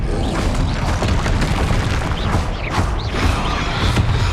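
Spell blasts and explosions in Hogwarts Legacy combat: loud, repeated booming bursts and crashing impacts in quick succession, with no pause in the chaotic fight noise.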